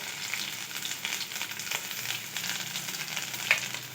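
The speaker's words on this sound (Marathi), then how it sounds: "ती तेलात छान फ्राय होऊ द्यायची आहे" Chopped green chili frying in hot oil for a mixed vegetable soup, a steady close hiss and crackle that holds evenly throughout, with a faint tap near the end.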